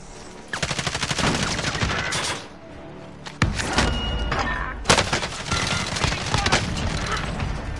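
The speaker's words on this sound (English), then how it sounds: "Taking fire! I'm taking fire!" Gunfire rattles in the Warzone video game: loud rapid automatic bursts and shots, broken by a brief lull, then resuming in dense, overlapping volleys.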